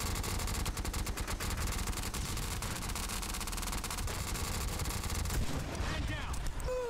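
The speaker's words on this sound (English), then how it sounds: "Oh, I sniped him." Rifle fire fills a SOCOM 3 online community night match, including a sniper rifle shot. Rapid, crackling shots repeat steadily and fairly loudly throughout over game ambience, with a voice speaking near the end.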